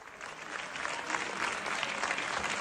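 Applause fills the French National Assembly chamber after a vote, a dense, fairly distant clapping that swells slightly and carries on steadily.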